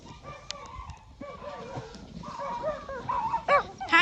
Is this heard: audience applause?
no